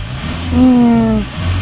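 A Mercedes CLS-Class W257 diesel engine revs briefly through an active sound system, a smooth, rising synthetic-sounding drone, close and fairly loud, then settles back to idle.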